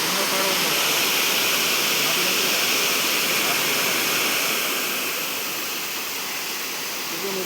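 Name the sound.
waterfall in Meghalaya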